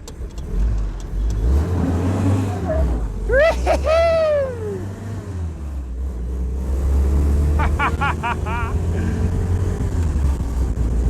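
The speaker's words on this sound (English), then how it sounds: "let's do some wheel spin here" A rebuilt old Jeep spins its wheels, the engine revving and surging while sharp squealing chirps rise and fall twice over a continuous motor drone.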